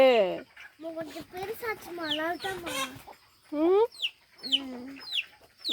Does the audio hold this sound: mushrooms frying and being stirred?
no